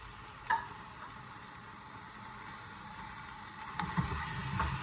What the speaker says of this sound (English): We're going to stir that for a few minutes until the beef starts to warm up.